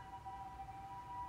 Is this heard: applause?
no